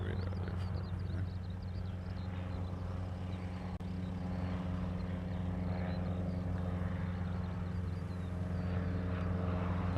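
A Qantas Airbus A330 airliner arriving at Honolulu produces a steady, distant jet drone that holds at an even level throughout, with no voices.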